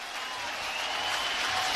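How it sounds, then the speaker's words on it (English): A baseball stadium crowd clapping in rhythm, a dense, steady wash of applause that builds slightly louder over a couple of seconds. "Rhythmic clapping"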